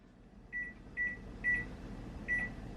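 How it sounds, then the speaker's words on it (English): A microwave oven heating a bowl of oatmeal hums steadily at a low level while a series of four short electronic beeps sounds at regular intervals. "And then I pop that in the microwave"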